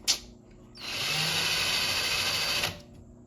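A power drill bores a pilot hole into a stainless steel kitchen surface: a short tap, then a steady high whine lasting about two seconds before it cuts off, close and alone with no talk.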